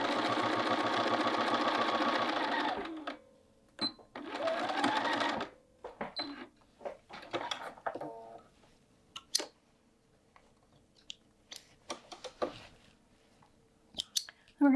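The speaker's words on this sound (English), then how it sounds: "I'm going to just sew up to the end and back tack." A sewing machine stitches a hood onto a quilted jacket in a fast mechanical whir, stopping after a few seconds, then resuming briefly before scattered clicks, taps and handling noises.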